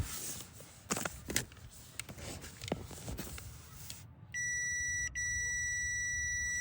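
Multimeter continuity tester emitting a loud, steady electronic beep that starts abruptly after a few seconds of handling noise and clicks, briefly cuts out once, then resumes and holds to the end.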